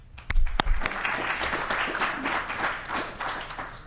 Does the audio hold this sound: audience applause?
yes